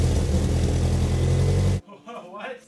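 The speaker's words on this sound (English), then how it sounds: "we got the new exhaust on, so I'm gonna go ahead and fire this thing up" A Mitsubishi Evo X fitted with a new Tomei exhaust runs with a loud, deep rumble, then the engine cuts off abruptly and a voice speaks briefly afterward.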